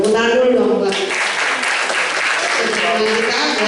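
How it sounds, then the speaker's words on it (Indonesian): Audience applause at a Golkar party office gathering in Jember, steady dense clapping throughout while a voice speaks over it at the start. "Tepuk tangan dulu dong buat"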